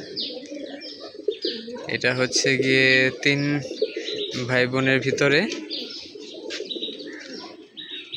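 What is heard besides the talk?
pigeons cooing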